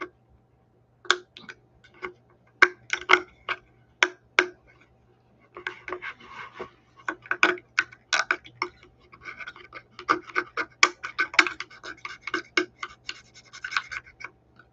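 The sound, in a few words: scraping out with a knife while making bookmarks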